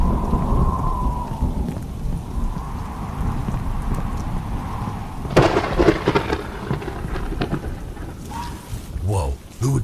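Steady heavy rain pours throughout a horror video game scene, joined midway by a loud crack and rolling rumble of thunder close by, with further thunder and some voices near the end.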